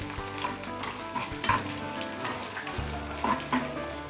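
Sesame seeds and urad dal frying in hot oil in a pan for goli idli tempering, a steady close crackling sizzle with brief louder spits and occasional stirring scrapes.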